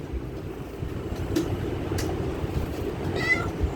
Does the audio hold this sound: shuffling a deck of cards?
no